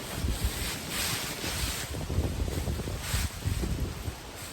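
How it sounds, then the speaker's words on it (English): Gusty wind on a blustery day at an outdoor shooting range rumbles and buffets across the microphone in a continuous, fluctuating roar, with no voices or shots standing out. "this is a blustery day"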